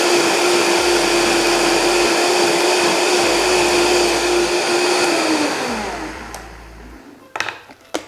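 A blender running at full speed on corn chowder, a loud steady motor whine with churning liquid that winds down near the end, followed by a few clunks.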